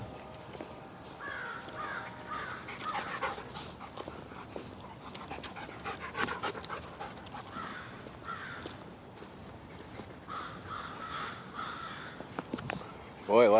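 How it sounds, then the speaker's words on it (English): Several crows caw repeatedly in the distance, harsh calls coming in scattered bursts over a soft outdoor background. "Boy, lots of crows squawking."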